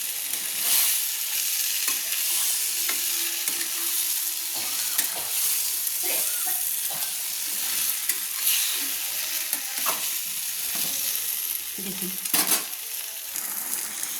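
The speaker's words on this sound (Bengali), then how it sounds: "দিয়ে ভালো করে একসঙ্গে মটর আলু আমি কষিয়ে নিচ্ছি" Boiled peas and potatoes stir-fry with spices for ghugni, giving a continuous sizzle with scattered spatula scrapes and clicks throughout, close and fairly loud, with no talking.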